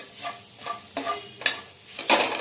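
Green chillies are stirred in a hot pan with lemon juice, a soft sizzle broken by several scraping strokes of the spatula, close by with no voices.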